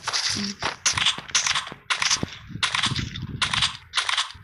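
Rapid bursts of gunfire from the Free Fire video game, with AK and AW rifles in use, crack out in short repeated volleys, loud and sharp with brief gaps between them.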